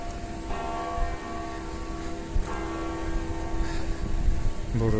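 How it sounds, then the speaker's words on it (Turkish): Church bells ring out over a noisy outdoor crowd in Vatican City, Rome, their tolls sounding at a distance and blending into the busy background. "çıkan çan seslerle"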